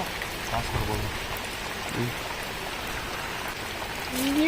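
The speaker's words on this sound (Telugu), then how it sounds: "ఎట్లా వాన పడుతుంది" Steady rain patters and hisses at low volume, with a few faint knocks and a rising tone near the end.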